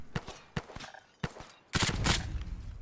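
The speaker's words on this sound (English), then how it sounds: "if I'm holding down fire and then my ammo runs out, it will decide, you know what? Let's keep firing" Gunfire in modded Fallout 4: three separated single shots at a steady pace, then a denser burst of rapid firing that carries on loudly to the end, with no talk over it.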